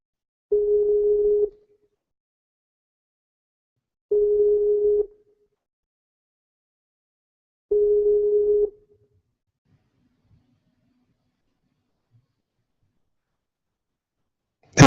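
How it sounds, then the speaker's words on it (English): Telephone dial tone heard while a call is placed during a talk show, as three steady one-second tones with pauses between them and then near silence, with no voices. "Let's see if we can get Ron Brown here on the call."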